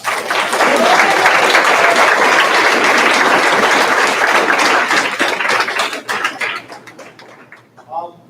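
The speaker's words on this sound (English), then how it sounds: "if you could give your teachers and staff a nice round of applause" A room of high school seniors claps loudly for their teachers and staff at a Teacher of the Year ceremony, a full sustained round that thins out and trails off into scattered claps near the end.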